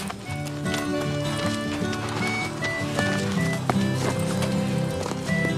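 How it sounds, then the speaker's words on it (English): Strawberry, a horse, walks at a slow pace with a steady clip-clop of hooves, heard under continuous music in a Wild West setting. "Strawberry is a very good horse"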